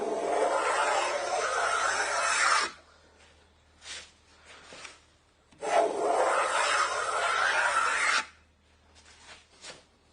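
Hand plane taking two long rasping strokes along a rebate in cedar, each stroke a steady broadband shave lasting a few seconds, with short quieter scrapes and taps between them; close and alone, no voices.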